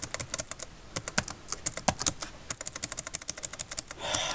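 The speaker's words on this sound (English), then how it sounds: "Sorry, typing up some typos here." Rapid, continuous keystrokes on a computer keyboard, crisp close clicks in dense bursts with brief pauses, heard alone.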